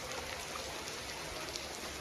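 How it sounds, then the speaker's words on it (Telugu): Heavy rain pours during a rainy stop on a tour, a dense, steady hiss of drops striking surfaces with no break and no voices. "ఇంకా వర్షం పెద్దదవుతూనే ఉంది."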